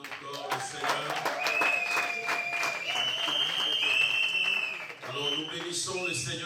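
Wedding guests in Rennes applaud and cheer to acclaim God, a steady wash of clapping and raised voices lasting several seconds, with shouts and talk mixed throughout.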